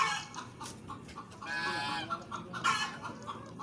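Male chicken (rooster) clucking and calling at an animal farm, a run of mid-loud calls over a noisy outdoor background with rustling, no voices.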